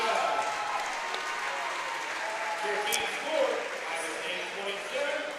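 A Cleveland State crowd applauds steadily at a college wrestling match against Iowa State, sustained clapping from a gym audience filling the whole moment, with a commentator's voice over it.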